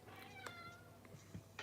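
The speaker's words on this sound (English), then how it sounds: "My cat is freaking out." Cat meowing indoors, a few short, fairly faint cries rising over a steady background hum.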